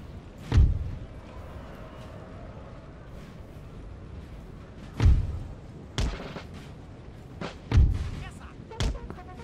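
Several deep booming cannon shots, about five spaced irregularly over a low rumbling battle ambience, in the video game Napoleon: Total War.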